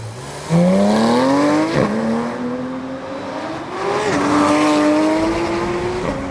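A Porsche 911 GT3 RS engine revs hard and loud nearby, pitch climbing in repeated surges with brief drops between gear-like shifts.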